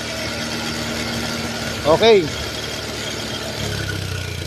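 A 2022 Honda Beat scooter engine idles at a steady, close, even hum, with a brief spoken word cutting in midway.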